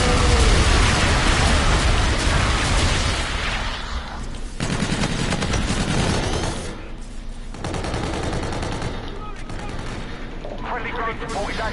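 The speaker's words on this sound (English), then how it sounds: "Enemy bombardment incoming." Enemy bombardment in a video game: dense, loud bursts of rapid gunfire and heavy booming blasts rolling on almost without a break, close and overwhelming, with a few brief lulls before the barrage resumes.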